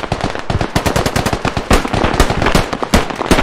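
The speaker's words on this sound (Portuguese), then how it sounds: "Ele errou todos os tiros." Rapid automatic gunfire in the military shooter game Squad, dense overlapping bursts of shots firing continuously and loudly, with no voices over it.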